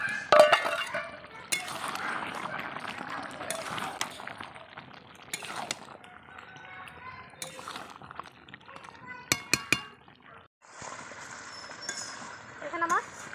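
Marinated meat is tipped into a cooking pot, giving intermittent metallic clinks, scrapes and clattering knocks at close range, with quieter stretches of room noise between the bursts.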